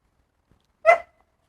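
A single short, close yelp-like bark from a dog waiting beside a grass-fed brisket barbecue on a Kamado Kettle Joe, alone in an otherwise quiet space.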